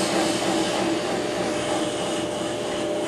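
Brake lathe taking a slow cut on a brake rotor, a steady broadband whirring hum with a constant grinding hiss, loud and unbroken throughout with no talk.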